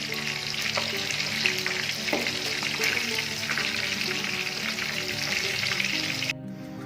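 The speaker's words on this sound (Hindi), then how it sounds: "चिकन अभी फ्राई हो गया, तो हम चिकन अपना निकाल लेते हैं अभी" Chicken pieces frying in hot oil in a kadhai, a steady dense sizzle and crackle with light stirring, close and loud throughout, cutting off abruptly near the end.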